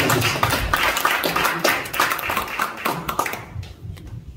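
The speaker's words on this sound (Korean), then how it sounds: "큰 박수로 환영해 주시기 바랍니다." A church congregation gives warm applause welcoming a pastor during a worship service, with brisk, dense clapping that holds steady and then fades out near the end.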